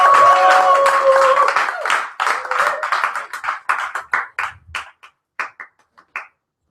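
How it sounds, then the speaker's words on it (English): Audience applause at an open mic poetry reading, a dense burst of clapping under a shout that thins out into scattered, separate claps before stopping. "let's give a round of applause to Mr."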